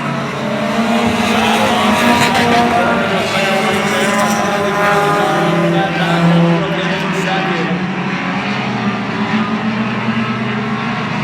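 Outlaw division race cars roar around Oyster Bed Speedway in a Labour Day race, a loud, continuous engine drone with cars passing close and a commentator talking over the noise throughout.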